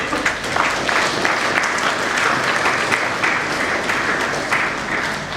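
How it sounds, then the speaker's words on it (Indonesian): Steady, dense applause from an audience at a graduation ceremony of the Kupang Marine and Fisheries Polytechnic, continuous and fairly loud throughout with no speech over it. "Untuk itu juga kita beri aplaus kepada seluruh sivitas akademika"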